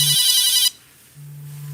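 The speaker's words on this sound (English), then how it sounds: "my phone is ringing" A mobile phone rings with a loud, bright electronic ringtone that cuts off abruptly, leaving a low steady hum.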